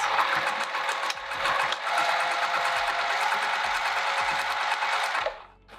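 A sewing machine stitches steadily along a zipper pouch upcycled from a skirt, a continuous close whirring run that stops abruptly near the end.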